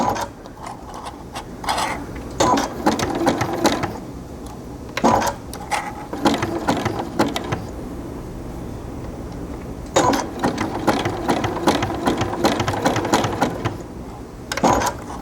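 Sewing machine zigzag stitching across the centre of a cotton piping cord coaster, running in loud close bursts of rapid mechanical chatter separated by short pauses.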